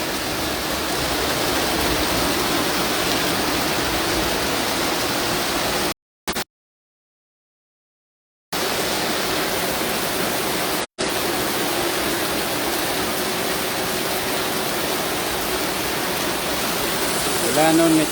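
Heavy morning rain pours in a dense, steady hiss, broken by a couple of abrupt dropouts in the recording, with no clear voices over it.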